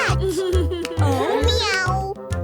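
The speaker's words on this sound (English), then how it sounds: "Oh, it's a cat!" A child's-song recording where a cat meows several times in a row, clear and upfront, over a bouncy nursery-rhyme backing with sung vocals.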